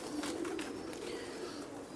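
Low, soft cooing of teddy pigeons sounds briefly at close range over a faint background murmur, with a few light chirps.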